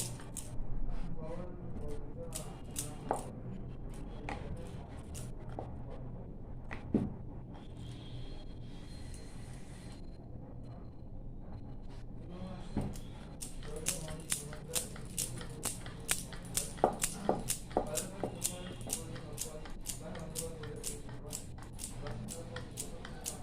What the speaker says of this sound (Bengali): লেচি কাটা রেডি, এবার আমি এগুলো থেকে রুটি বেলে নেব।